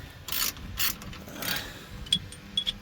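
A half-inch socket wrench ratchets on a Dodge Ram while a steering box brace is fitted, giving a few bursts of clicking followed by sharper, isolated ticks, close and moderately quiet.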